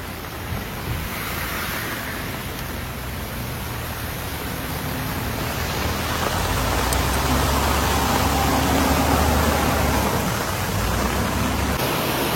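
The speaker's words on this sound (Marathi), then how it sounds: "मुसळधार पाऊस चालू आहे" Heavy monsoon rain pours over a flooded road and Thane railway station, a dense, continuous roar of falling water that swells louder midway, with wind buffeting the microphone.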